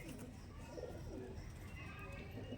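Madrasi pigeons cooing at a pigeon sale, soft low repeated coos under a quiet background hum, distant and faint.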